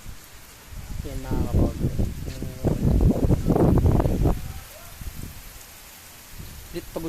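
Heavy rain beats on a waiting shed as a steady hiss with gusts of wind, while a person talks over it near the microphone.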